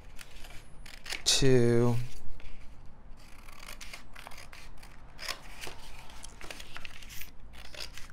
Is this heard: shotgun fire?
no